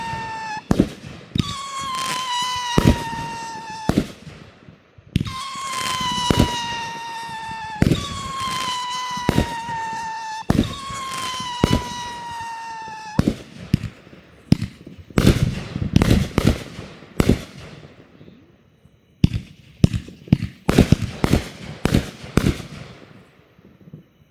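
Crazy Goose fireworks by Sunwing go off in a backyard display, rising whistling screams layered over rapid loud cracks and bangs, repeating in several close volleys before trailing into scattered pops.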